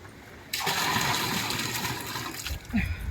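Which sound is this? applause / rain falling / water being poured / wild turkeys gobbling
water being poured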